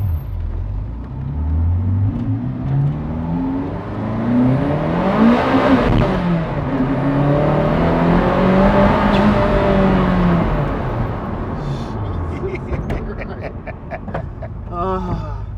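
A Ferrari F40 engine screams up to 8,000 RPM as the car slides sideways, its pitch climbing and falling in long sweeps under a constant loud roar.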